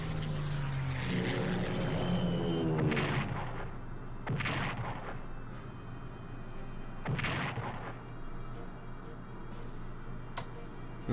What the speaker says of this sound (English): And then we're gonna bomb.